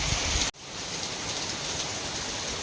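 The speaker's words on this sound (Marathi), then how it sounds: "पाऊस भरपूर पडतो आहे" Rain falls in a steady, even hiss, with one sharp click near the start.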